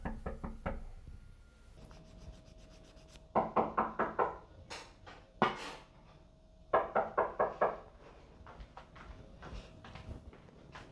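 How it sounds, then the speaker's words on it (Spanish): Knocking on a door: several bursts of quick, sharp raps in groups of four or five, fairly close and distinct, separated by short pauses with faint background hum. "¿No escuchas la puerta? ¿Están tocando?"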